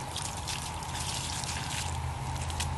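A 1/2 HP sump pump drains a bucket of water with a steady pump hum beneath a continuous trickling, gushing flow, close and even.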